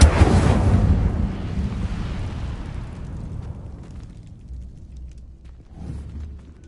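A loud burst from the Incendio fire spell in Hogwarts Legacy on PS4 erupts at once, then rumbles and slowly fades over several seconds, with a smaller swell near the end.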